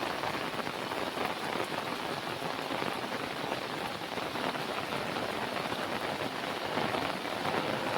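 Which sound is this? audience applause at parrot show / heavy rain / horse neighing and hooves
heavy rain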